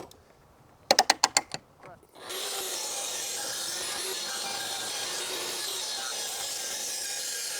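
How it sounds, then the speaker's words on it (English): A clamp clicks and ratchets quickly several times as a track saw fence is clamped onto wood, then a steady loud broadband whoosh, like a dust extractor or fan, runs continuously to the end. "I'm gonna go ahead and put a clamp on this"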